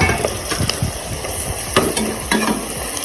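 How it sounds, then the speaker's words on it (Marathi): Masala rice for veg biryani frying in a pan, with a continuous loud sizzle and repeated scraping and clanking of a spoon stirring against the metal, close up. "मला पूर्ण हलवून घ्यायचं मित्रांनो एकदम खमंग असावा"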